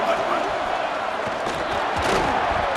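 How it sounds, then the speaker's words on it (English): Stadium crowd noise in the EA Sports College Football video game, a dense continuous roar of a fired-up crowd that swells slightly near the end, with no break for nearly three seconds. "this crowd is fired up. Listen to this noise here."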